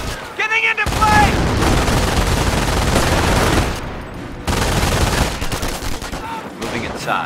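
Sustained heavy machine-gun fire in the Company of Heroes World War II strategy game, loud, dense bursts running almost continuously, with a brief lull near the middle and a short shouted voice at the start.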